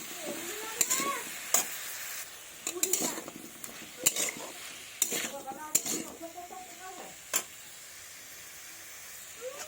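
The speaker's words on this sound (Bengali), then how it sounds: "তো আমি খুন্তিটা দিয়ে ভালোভাবে নেড়ে দেব।" Onion and garlic leaf mixture stirred with a metal spatula in a pan, sharp irregular clinks and scrapes against the metal over a faint sizzle, with no talking.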